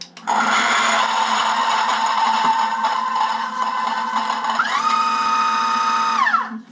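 Loud, steady motor whine and grinding from an Option-O Lagom 01 coffee grinder with 102mm flat burrs and a pre-production motor, running continuously close up before the pitch sweeps up and then drops near the end.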